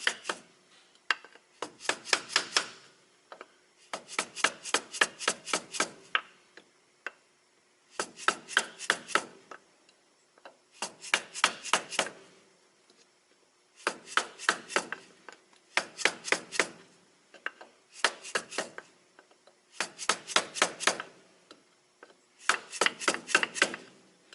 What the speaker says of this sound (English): I'm going to use a wooden hammer.